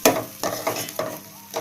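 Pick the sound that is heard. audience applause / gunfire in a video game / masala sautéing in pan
masala sautéing in pan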